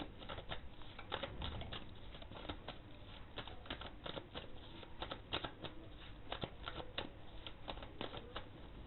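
Tarot cards being shuffled and handled for a pick-a-card reading, a quiet, rapid flurry of papery flicks and riffles in an irregular rhythm, close up and faint, with no talking.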